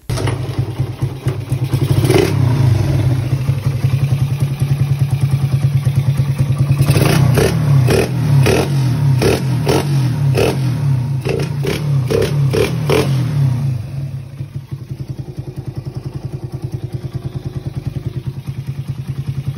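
A motorcycle with a freshly repaired exhaust pipe runs loud and steady, with a series of sharp rhythmic revs or pops in the middle. It then settles back to a lower idle.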